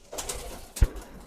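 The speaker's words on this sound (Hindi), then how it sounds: "फिरोजपुरी कबूतर।" Ferozpuri pigeon, a five-to-six-year-old bird, giving a short close coo with a soft low throaty burst near the end of a brief, quiet moment.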